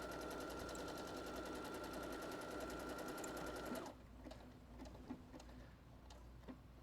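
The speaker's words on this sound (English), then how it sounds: "This sews over itself several times, reinforcing it. And then it does a zigzag." A domestic sewing machine runs a fast, steady buzzing stitch for a few seconds, sewing back over itself to reinforce, then stops and leaves a quieter stretch of light clicks and mechanical ticking.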